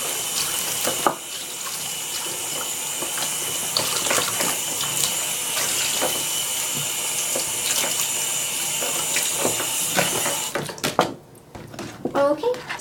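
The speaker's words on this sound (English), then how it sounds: "I'm just going to rinse that now." Running tap water rinses an object during cleaning, a steady close splashing flow for roughly ten seconds that cuts off near the end, followed by a few small knocks.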